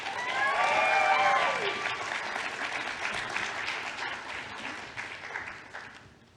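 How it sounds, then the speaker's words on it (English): Applause from a theatre audience at a volunteering awards ceremony, a dense wash of clapping that starts full and slowly thins out over about six seconds, with faint voices mixed in. "A round of applause for John."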